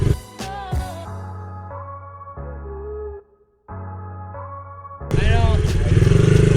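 A small pit bike engine buzzing and revving during a ride, changing pitch in bursts with a brief drop-out, then roaring louder and rougher near the end while riders talk over it.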